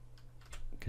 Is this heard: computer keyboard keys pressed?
yes